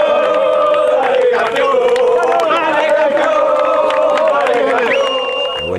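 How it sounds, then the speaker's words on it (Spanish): Crowd at an amateur veterans' football trophy celebration cheers and claps continuously, a dense, loud babble of voices, whistles and applause running throughout with no pause. "Mirá el aplauso, muy bien, ¿eh?"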